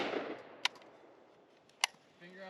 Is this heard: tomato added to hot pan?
no